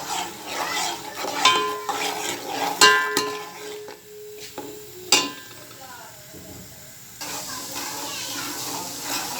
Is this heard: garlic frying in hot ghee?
yes